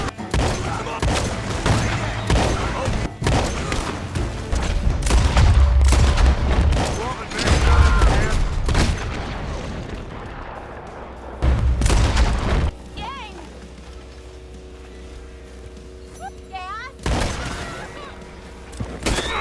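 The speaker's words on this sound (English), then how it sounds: "running around and shooting people in the face" Gunfire in the Red Dead video game, with dense bursts of shots and booming reports in the first half, then scattered single blasts over quieter game ambience, loud and close.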